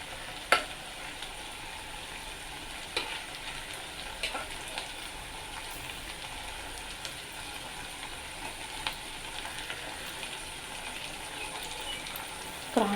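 Prawns frying in a pan for an egg and large prawn curry, a soft steady sizzle running throughout at low volume, broken by a few faint clicks and a scrape of stirring.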